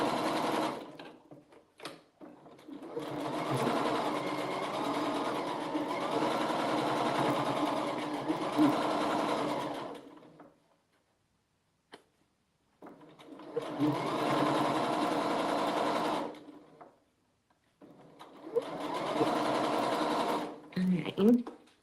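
A sewing machine back stitches a quilt block in three long runs of steady motor whirring, close and clear. A short silent gap separates the runs, and a voice speaks faintly at times.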